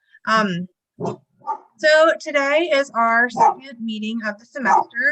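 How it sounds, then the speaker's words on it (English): A dog barks intermittently in the background during a remote meeting, mostly under continuous talk. "barking dog on my end"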